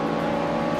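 2007 Porsche 911 Turbo race car engine in a racing video game, a steady sustained engine drone at constant pitch, loud and close, with no talking.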